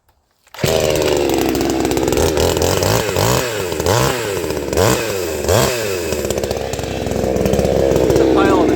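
A recently sharpened chainsaw with its idle turned down and rakers lowered starts with a loud roar and cuts firewood, the engine revving up and down steadily throughout, close and dominant.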